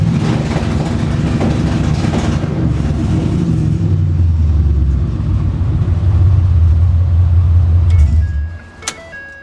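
A truck engine held on two-step launch control at 3,000 RPM, a loud steady drone that holds for about eight seconds before it cuts off and drops away.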